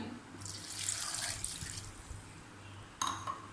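About 100 ml of water poured into a mixer jar holding beetroot and coconut for juice, a soft, steady splashing hiss lasting a couple of seconds, faint, with a small clink near the end.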